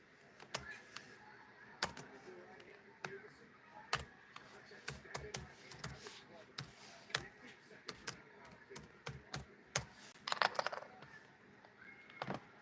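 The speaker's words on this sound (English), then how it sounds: "I can type it this way." Fingers tap on a computer keyboard at close range in a quiet room, irregular bursts of crisp clicks with short pauses between them and a quicker flurry near the end.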